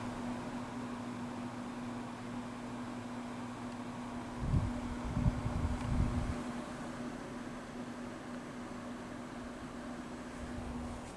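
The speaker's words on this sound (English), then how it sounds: "I'm trying to be better about calling it a blower rather than a fan, because it's not really a fan." A brand-new GE HVAC unit in a Sheraton hotel room in Portsmouth, NH runs its blower with a steady low hum and faint airy hiss, interrupted midway by a few soft thumps and rumbles.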